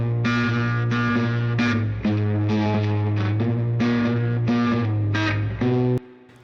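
Electric guitar run through a Ruby amp plugin with distortion and effects, playing steady sustained chords and notes in a lo-fi style, loud and continuous before cutting off near the end.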